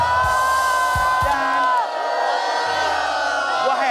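A studio audience whoops, cheers and jeers in a loud, close, continuous roar of overlapping voices, with shouts rising above the crowd throughout.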